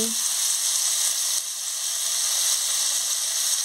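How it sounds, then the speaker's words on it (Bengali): Chopped vegetables fry in hot oil in a pan for a raw tamarind sour dish, giving a loud, steady sizzle with a brief dip as they are stirred. "আনাজগুলোকে ভালো করে একটু নাড়িয়ে নিচ্ছি"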